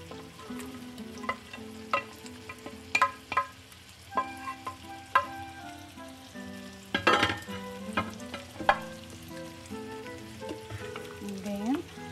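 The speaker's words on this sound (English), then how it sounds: "While we are waiting for the onion to be sauteed, we'll add all the vegetables that we chopped, the parsley, carrots," Onion sautés in a pan with chopped parsley, carrots and celery added, producing a soft, low sizzle broken by scattered spoon clinks and stirring scrapes, with a faint tonal background.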